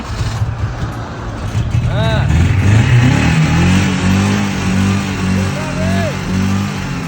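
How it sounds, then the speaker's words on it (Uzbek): A repaired Daewoo Matiz car engine revs up and holds a steady, rough drone, loud and close, with speech faintly mixed in. "Matizning ovozini eshitdinglar?"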